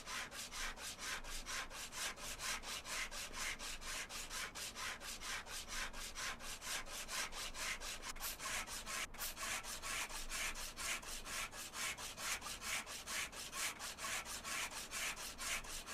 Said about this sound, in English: Rust and metal sandpaper.